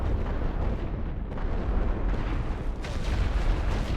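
Heavy artillery fire from WWI guns in the strategy video game The Great War: Western Front, a dense, continuous rumble of overlapping booms and blasts that holds steady and loud throughout.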